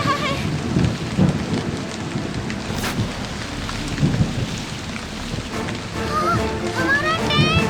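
Heavy cartoon rain pours steadily while thunder rumbles through a forest storm, with wind-like whooshes and short whistling tones near the end and muffled voices in the background.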